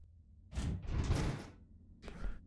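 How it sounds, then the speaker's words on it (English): A facility access door in the game Techtonica shuts with a whooshing slide and a dull thud, followed by a shorter mechanical burst, fairly soft against a quiet background. "That door just shut behind me?"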